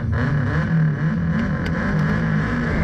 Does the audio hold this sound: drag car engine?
yes